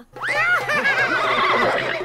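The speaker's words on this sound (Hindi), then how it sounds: "कौन हंसा रे? आपका घोड़ा सिस्टर।" A horse neighs loudly and close, a long wavering whinny with rising and falling pitch sweeps over about two seconds, alone without talk.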